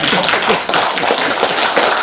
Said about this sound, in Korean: 이때 박수 한번 쳐야 됩니다.